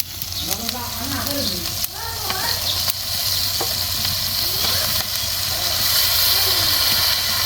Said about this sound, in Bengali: এখন আমরা দিয়ে দিচ্ছি খাসির মাংসটা